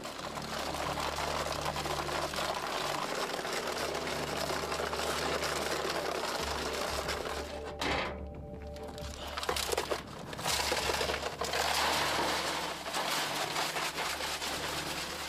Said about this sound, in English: The machine will turn for 2 hours, removing the sandstone, while Bob waits and hopes.